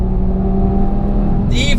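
A turbocharged Audi TT RS drones loudly on a race track with a steady engine tone that briefly shifts near the end, joined by a high whistling whine.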